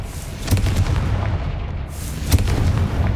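Confringo spell explosions in the video game Hogwarts Legacy, a pair of loud booming blasts about two seconds apart with rumbling low tails, heavy and close, with no talk.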